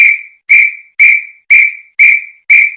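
A whistle blows six times in an even rhythm, each blast a short, loud, piercing tone that is close and clear with nothing else heard.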